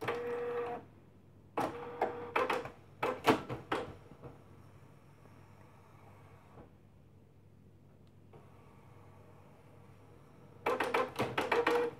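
A Canon Pixma MG3650 printer repositioning after being switched on: bursts of mechanical whirring and clicking at the start and end, with quieter motor hum in between.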